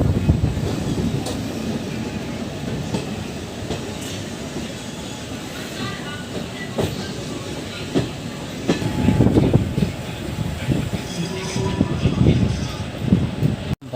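Intercity Express train 14102 rumbles steadily along the tracks toward Prayagraj Sangam station, heard from inside with a continuous low roar and occasional rattling clacks, while people talk faintly over it.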